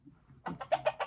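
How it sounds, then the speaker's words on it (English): Chicken clucking in a short burst: a soft start, then four quick, sharp clucks in rapid succession, close and clear. "That was the sound of a chicken."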